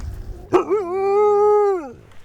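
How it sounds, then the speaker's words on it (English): A single dog howls in Qaanaaq, Greenland, one long steady wavering note after a brief sharp onset, clear and close against a quiet background. "in town, the silence is only broken by the howl of dogs."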